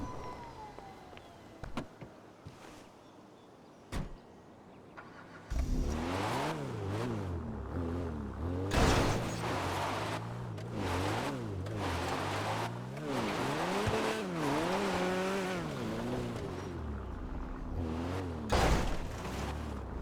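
A car in the video game GTA Online idles with a few faint clicks, then its engine revs hard and repeatedly, surging up and down in pitch as it drives loudly with tire noise.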